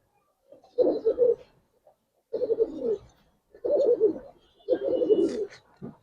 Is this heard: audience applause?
no